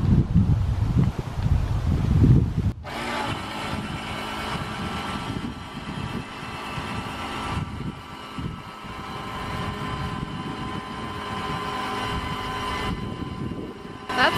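After a gusty opening of rustling wind, a new trailer home is cranked open by a motor that starts abruptly and runs loud and fast, holding a steady mechanical whine with slight dips and a brief voice near the end.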